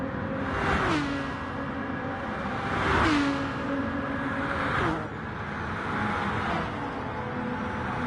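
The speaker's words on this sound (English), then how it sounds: "And the Aston most certainly makes a great noise." Aston Martin race car in the GT Sport video game, its engine roaring loud and steady and rising in pitch through repeated gear shifts, with a whoosh as it passes at about three seconds.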